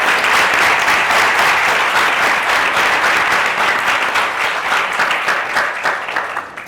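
Sustained, loud audience applause, dense and continuous, tapering slightly toward the end.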